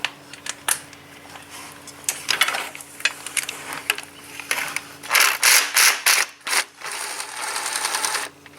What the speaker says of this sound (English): let's grab the tool squeak and see if we can remove all these bolts and pull that valve body out of the way now